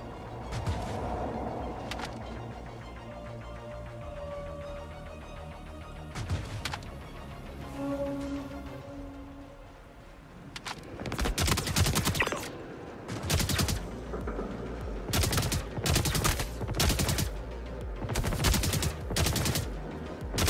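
Gunfire in the space combat game Star Citizen: the first half carries music and game ambience, then repeated loud bursts of rapid weapon fire from a recoiling gun in an on-foot fight around a building, with brief pauses between volleys.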